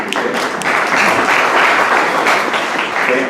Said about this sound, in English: I'm hoping that'll be the last clapping we have till the end.